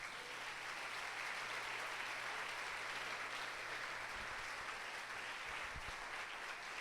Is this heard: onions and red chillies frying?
no